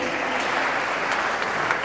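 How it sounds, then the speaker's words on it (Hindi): An audience claps steadily at a Hindi poetry recital, a kavi sammelan in Najibabad, Bijnor, with dense, continuous applause filling the room at close range. "अब ताली बजा सकते हैं, पंक्ति खत्म हो गई है।"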